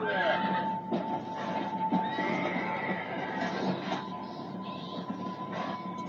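A horse whinnies in Red Dead Redemption: Undead Nightmare over a busy, steady background of game noise, with a sustained tone and scattered clatter throughout.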